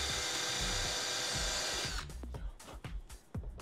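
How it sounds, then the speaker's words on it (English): A power drill runs loud and steady for two seconds while countersinking holes in an RV-14A aircraft part, then cuts out into short bursts and handling clatter. "So we're gonna countersink these three holes here."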